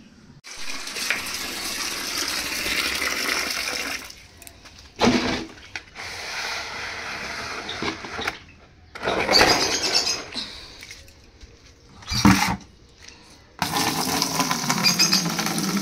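Tap water gushes steadily into containers being filled at home, a running rush broken by several short pauses and shifts in flow, fairly close and alone with no talk.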